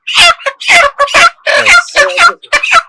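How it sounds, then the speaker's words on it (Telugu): A chicken being handled on a poultry farm gives loud, close bursts of squawking clucks in quick irregular runs, separated by brief pauses. "అసలు ఒక కోడిని తీసి నా చేతికి ఇవ్వ"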